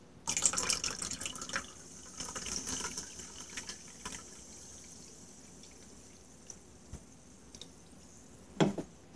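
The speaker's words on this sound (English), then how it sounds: "now I'm going to pour the Mountain Dew Baja Blast." Mountain Dew Baja Blast poured into a container, with a close fizzing, splashing stream at first that thins into soft crackling bubbles and scattered drips, then a louder clink near the end.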